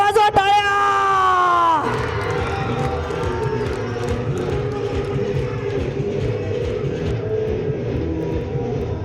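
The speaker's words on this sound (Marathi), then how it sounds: "जोरदार टाळ्या वाजवा टाळ्या." An audience at a school fishpond programme claps and cheers after a loud musical tone cuts off, leaving a steady crowd roar of clapping with scattered whoops throughout.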